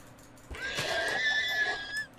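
A Minecraft horse gives a single clear, loud whinny that rises and then trails off over about a second and a half, with nothing else competing.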